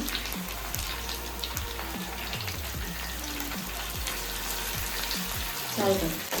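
Asafoetida dropped into hot oil for the tempering of an Andhra-style raw mango dal gives a steady, close, even sizzle with faint clinks near the end.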